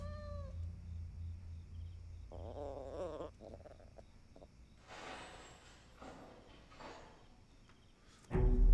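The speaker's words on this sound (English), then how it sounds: "it's a cat." A cat meows and yowls several times in drawn-out, wavering cries, fairly faint and distant, before a sudden loud thump at the end.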